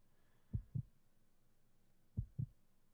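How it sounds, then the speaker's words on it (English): Heartbeat sound effect in the game Resident Evil Code: Veronica X, two deep thumping double beats, lub-dub pairs spaced about a second and a half apart, quiet and alone. "And the heartbeat while it opens."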